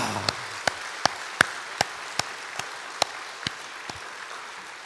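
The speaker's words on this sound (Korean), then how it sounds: "우리 나라를 향해서 박수 한번 보내도 좋을 것 같아요" Slow, evenly spaced single claps, about ten of them, ring out during a Korean church Sunday worship service, sounding like one or a few people clapping rather than a full congregation.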